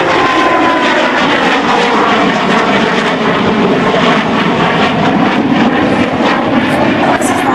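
Russian jet fighter, the country's first supersonic jet, flying past at an air show with smoke generators fitted under it; a loud, continuous broadband roar of aircraft engine noise with crowd ambience, sustained throughout.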